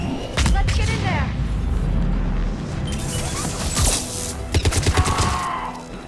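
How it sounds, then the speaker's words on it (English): Sustained gunfire and explosions from combat in the Mass Effect 3 video game, a dense rattling barrage with heavy booms and a quick burst of shots near the end, with voices shouting over the fighting. "Taking fire! They're under fire!"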